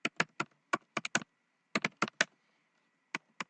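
Typing on a computer keyboard in short bursts of close, crisp key clicks separated by brief pauses.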